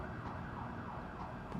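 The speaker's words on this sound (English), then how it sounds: "Police sirens." Police sirens wail in the video game Deus Ex: Human Revolution, faint and distant with a repeating rising and falling tone over a low rumbling background.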